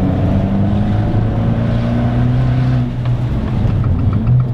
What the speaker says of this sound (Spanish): Cómo suena el escape, es increíble